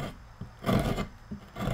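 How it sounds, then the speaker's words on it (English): A flat gouge scooping into tree bark while carving a lighthouse: a few brief rasping scrapes in quick succession, close and fairly loud, with no voices. "And I'm using a flat gouge, but I'm kind of doing a scooping motion."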